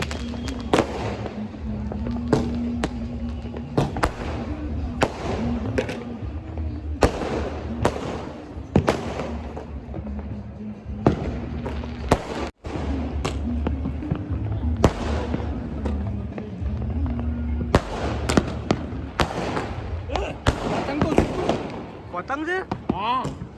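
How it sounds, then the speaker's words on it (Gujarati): Firecrackers burst in quick, sharp pops and crackles during an Uttarayan kite festival in Ahmedabad, some near and some farther off, while people talk over the noise. "ફટાકડા ફૂટવાનું ચાલુ"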